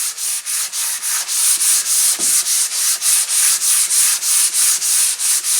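Sandpaper rubs back and forth across wood in a steady, even rhythm of about fifteen loud, close, hissing strokes with brief pauses between them and no voices.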